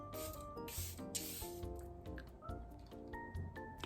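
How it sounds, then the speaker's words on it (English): Charlotte Tilbury Airbrush Flawless Setting Spray misted from a pump bottle, several short hissing sprays in quick succession over faint background music. "I'm gonna use my Charlotte Tilbury Airbrush Flawless Setting Spray"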